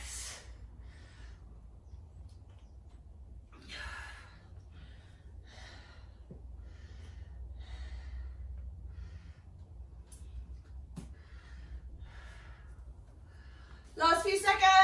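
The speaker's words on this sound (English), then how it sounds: "Big breaths." Heavy breathing during a workout, with sharp gasps and huffs recurring every few seconds over a low background hum, close to the microphone, followed by a burst of louder noise at the end.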